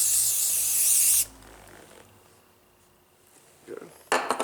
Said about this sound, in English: Let's try the spray paint,